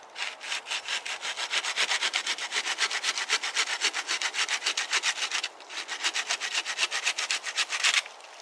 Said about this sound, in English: I just want to kind of see very quickly how this saw performs.